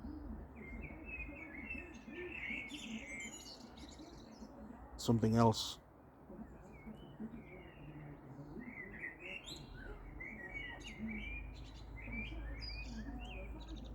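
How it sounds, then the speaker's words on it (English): Blackbirds sing and chirp outdoors, faint and somewhat distant, with scattered calls throughout and a brief louder knock or bump midway; a few words are spoken quietly. "They're all blackbirds."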